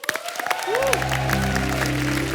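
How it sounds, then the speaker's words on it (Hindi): A TV comedy show's studio audience breaks into loud, sustained applause for a music director that builds quickly and carries on steadily. "अमित जी के लिए एक बार जोरदार तालियां हो जाएं।"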